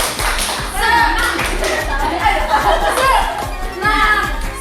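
A group in an indoor session claps together in a quick, rhythmic patterned clap while voices chant and chatter over it, the claps sharp and close with brief pauses between phrases.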